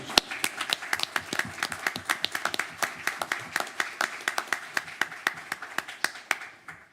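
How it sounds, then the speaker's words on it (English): Scattered audience clapping at a county council meeting, a modest group of distinct, fairly steady hand claps at moderate distance, with little talk. "Let's give them all one more round of applause."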